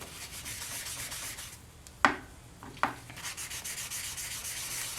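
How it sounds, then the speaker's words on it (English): Polymer clay is sanded with a 400 grit polishing cloth: soft, steady rubbing strokes, close and quiet, with two sharper scrapes or taps in the middle and no talk. "And so I'll just start sanding"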